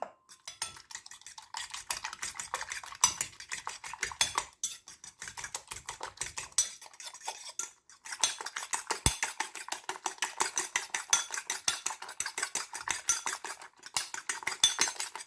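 Egg whites with a pinch of salt being beaten with a fork in a bowl, giving rapid, rhythmic ticking strokes that run in bursts with brief pauses between them.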